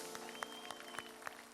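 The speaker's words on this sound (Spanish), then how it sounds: "Fuerte los aplausos." A studio audience applauds on a Saturday television variety show, a dense, even patter of many hands with sharp individual claps poking out, steady and fairly distant, with faint voices mixed in.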